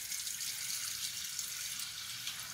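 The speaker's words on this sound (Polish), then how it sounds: "wlewam wodę do garka" Water pours into a cooking pot in a kitchen, a steady hissing splash that runs continuously and fairly softly, with no talking.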